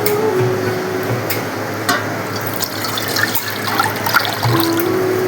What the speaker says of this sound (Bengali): কড়াইয়ের মধ্যে এখন আমি জল ঢেলে নেব।